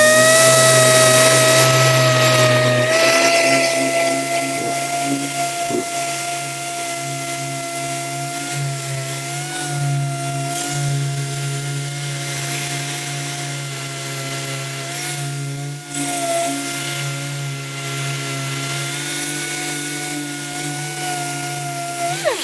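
Dual-action sander with a vacuum dust-extraction system working on a car body panel, a loud, steady whining hum with tonal overtones running without a break, with no voices.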